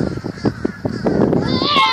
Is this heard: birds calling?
yes